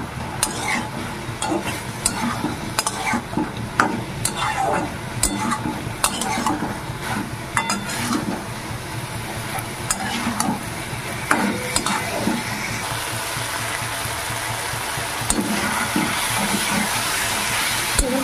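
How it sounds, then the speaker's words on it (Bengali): A spatula scrapes and stirs steadily through prawn and coconut masala sizzling in a pan as the water cooks off, with frequent clinks of metal on the pan over a constant frying hiss. "এবার পানিটাকে একদম শুকিয়ে ভালো করে ভাজা ভাজা করবো প্রথমে"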